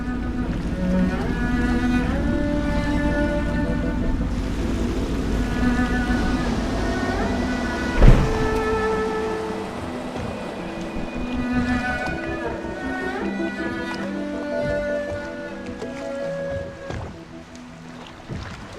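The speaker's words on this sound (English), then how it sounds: "I should concentrate on piloting this boat" A boat piloted across water in the game Dishonored, with a continuous low engine and water wash under a shifting musical score, one sharp thud midway, and no talking.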